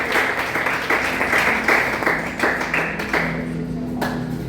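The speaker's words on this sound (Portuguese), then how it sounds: "Dê uma salva de palmas a Paulo aí" Church congregation applauding at a Portuguese-language worship service, a dense steady patter of many hands with a low sustained tone underneath and a few louder claps standing out.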